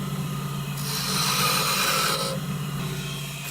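A chisel scrapes along a hand-carved wooden wand in one steady, rasping stroke lasting about a second and a half, close up over a constant low workshop hum.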